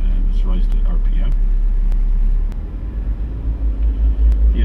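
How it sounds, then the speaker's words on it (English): Car engine revved to raise RPM during a diagnostic check, a loud steady low rumble that drops then pulses as the revs change, with a voice talking briefly over it. "Let's rise the RPM."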